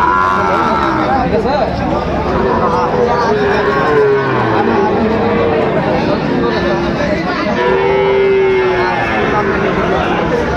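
Sahiwal bull calves low repeatedly at a busy cattle market in Dinajpur, drawn-out moos rising over a loud, constant hubbub of crowd chatter and livestock noise.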